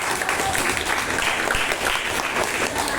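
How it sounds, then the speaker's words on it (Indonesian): A classroom group gives a steady, dense round of applause during a training session, the clapping filling the whole moment without voices on top. "Oke, beri tepuk tangan buat."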